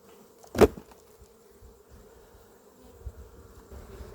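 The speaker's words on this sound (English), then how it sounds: "let these bees exit into the empty super that I've just put back on" Honey bees hum around a beehive super with a faint, steady low drone and one brief louder buzz as a bee passes close by, and no talking.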